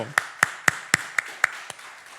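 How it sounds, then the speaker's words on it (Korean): A church congregation at an evening prayer service claps in unison, seven sharp, evenly spaced claps at a brisk steady beat, loud and close, the last one slightly softer. "우리 박수로"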